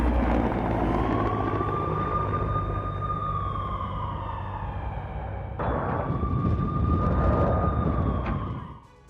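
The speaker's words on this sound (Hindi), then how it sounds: "लुहांस्क के आसमान में रूसी हेलीकॉप्टर्स आपको उड़ान भरते हुए" Russian military helicopters flying over Luhansk, a loud steady rotor and turbine drone with a whining tone that sweeps and shifts, swelling briefly near the end before fading.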